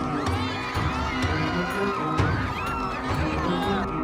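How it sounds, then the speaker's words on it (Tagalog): Spectators at a Palo Cebo greased bamboo pole-climbing game cheer and shout loudly and continuously, a dense crowd roar with children's yells and whoops rising throughout. "Habang malakas naman ang hiyawan ng mga nanonood."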